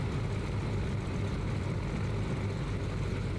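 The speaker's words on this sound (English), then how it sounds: "And we've got ignition on the rear engine." Cessna 337 Skymaster rear piston engine starting in Microsoft Flight Simulator 2020, a steady loud low rumbling drone filling the whole stretch without pause.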